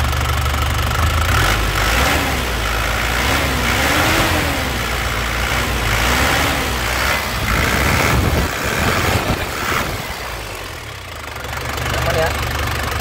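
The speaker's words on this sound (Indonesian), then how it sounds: "Nah, nggak ngasap ya, kita gas-gas." A black 2006 Grand Touring car's engine idles loudly nearby and is revved in rising and falling swells, a rough rumbling drone, with someone talking over it.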